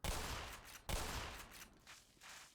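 Gunfire in the video game Black Mesa: two heavy, sharp shots close together followed by a decaying rumble and fainter reports, with no talk.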